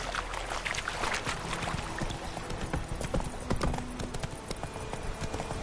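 Horse hooves clip-clop steadily in The Witcher 3 as a rider sets off, a close, continuous rhythmic clatter with soft ambient game sounds beneath.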